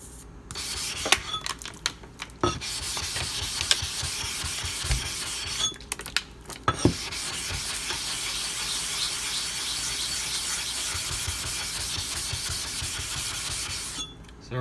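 Nano Hone sharpening stone being resurfaced on a DMT or Atoma diamond plate, giving a steady abrasive rubbing and grinding of stone on metal with a few sharp scrapes and brief pauses.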